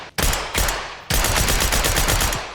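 Automatic gunfire in Call of Duty Black Ops 6 on a museum map: two loud, rapid bursts, a short one and then a longer sustained stream of rounds, close and alone.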